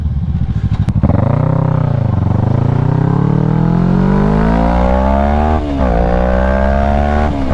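Motorcycle under way, loud and close, its engine climbing in pitch through the gears with a brief dip at a shift, steady roar throughout, no talk.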